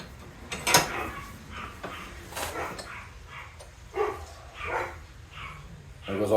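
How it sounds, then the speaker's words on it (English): Dogs in a home bark in short, scattered bursts, a few sharp barks and yips spread across several seconds at moderate loudness, with some background noise and possible voices. "My dogs are about to go nuts because my kid just got home."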